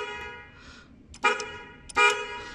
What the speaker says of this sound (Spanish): este va a ser mi pequeño claxon